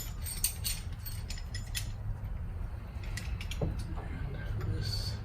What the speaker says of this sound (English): I have to compress. Caliper compression tool.